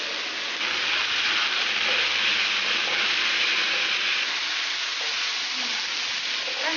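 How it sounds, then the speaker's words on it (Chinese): King oyster mushrooms stir-fry in a hot wok with green and red peppers, onion, salt, soy sauce and oyster sauce, giving a loud, steady, close sizzle and hiss with no talking. "再次翻炒均匀，倒入青红椒和洋葱"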